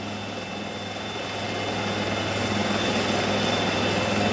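An Air Force helicopter from Kozhikode arrives at a school ground in Kalpetta on a rescue mission, its rotor and engine making a steady, dense whirring roar that grows gradually louder and nearer, with no talk.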